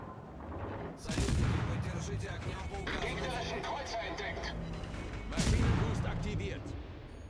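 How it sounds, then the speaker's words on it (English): Z-44 German destroyer guns fire in World of Warships as two heavy booming salvos about four seconds apart, with rumbling battle noise between them and someone talking over it. "So we're just gonna shoot anyway since we're radared."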